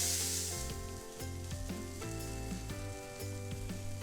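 Fruit grills over heat with a soft, continuous sizzle and crackle. Steady background music with sustained tones plays over it.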